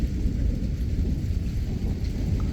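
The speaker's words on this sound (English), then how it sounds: "The amount of lightning from this thing right now just tells you how strong it is." Deep rolling thunder rumbles from an intense thunderstorm with continuous lightning, a loud sustained low roar layered with steady heavy rain.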